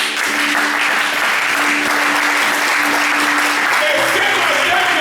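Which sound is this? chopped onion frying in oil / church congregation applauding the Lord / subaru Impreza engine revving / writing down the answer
church congregation applauding the Lord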